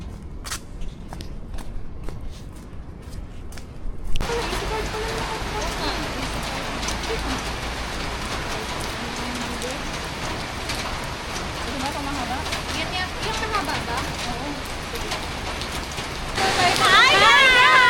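Steady rain pours down outdoors at a pagoda, a dense continuous patter that swells louder near the end, with footsteps and voices talking over it at times.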